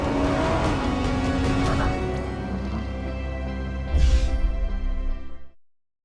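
Car engine in a car advertisement, a loud sustained roar that surges with a sharp burst near the end before cutting off into silence.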